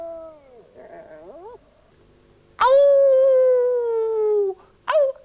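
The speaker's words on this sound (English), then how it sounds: "And wolves howl at night." Wolves howl: faint wavering calls first, then one long, loud, steady howl that fades out, followed by a brief, sharper cry.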